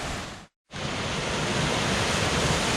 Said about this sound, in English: It's kind of a cute little waterfall